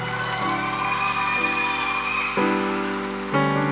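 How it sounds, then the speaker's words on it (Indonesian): A church congregation applauds a worship team after praise and worship, a steady wash of many hands clapping that runs throughout under sustained, swelling musical chords. "Berikan tepuk tangan yang meriah untuk GMI Sion Tanjung Balai."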